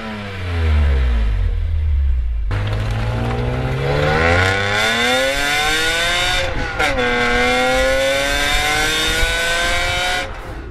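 A loud BMW M six-cylinder car engine, tuned, revs hard, its pitch climbing and dipping through several sweeps, a continuous aggressive roar throughout.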